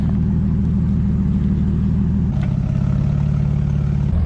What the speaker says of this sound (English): So we're gonna use the neighbor's forklift.